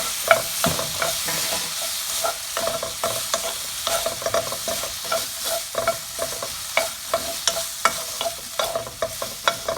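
Shrimp with garlic, soy sauce and oyster sauce is stirred in a hot pan, a constant sizzle under a steady rhythm of spatula scrapes and taps repeating about twice a second.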